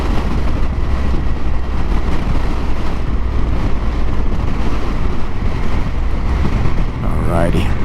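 Strong wind roars steadily against the microphone while a vehicle rides along a gravel road in Chile, the buffeting loud and constant throughout, with brief faint talk near the end.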